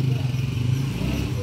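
Honda TMX155 motorcycle, an older bike, revving up and riding off, its steady low engine drone close and loud with a faint clatter throughout.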